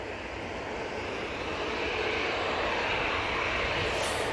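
EasyJet airliner engines at Manchester Airport, a steady, loud broadband roar that builds slightly toward the end, heard from a distance with no voices.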